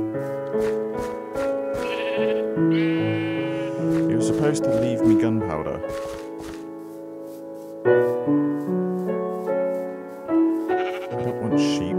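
Sheep bleating in the Minecraft video game, several short bleats scattered over game music and sound effects while someone talks throughout.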